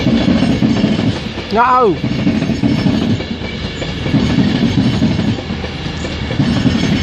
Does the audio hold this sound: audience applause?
no